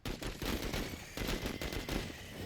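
Rapid gunfire in the video game Menace, a dense burst of automatic shots crackling continuously and loudly with no talking over it.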